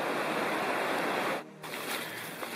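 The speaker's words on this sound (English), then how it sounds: "Beautiful creek." A creek beside a forest trail in the Great Smoky Mountains rushes with a steady, broadband hiss of flowing water, fairly faint and close, briefly dipping before resuming.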